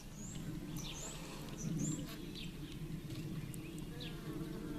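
Honeybees buzzing inside a top bar hive opened for its first inspection of the season, a steady low hum from the small cluster with faint higher insect whines and a few distant bird chirps above it.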